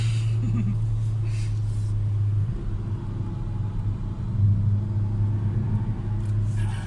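A Hyundai i30N hatchback being pushed through a twisty road section, its engine a steady low rumble heard from inside the cabin, rising and falling slightly with throttle, with no talk over it.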